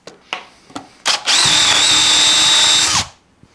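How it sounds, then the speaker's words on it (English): A step drill bit reaming out a hole in a guitar body during an SG-style build, a few short clicks and taps, then a loud close whine of the drill running steadily for about two seconds before spinning down. "Going to ream it out now with a stepper until we've got it looking how we want it to look."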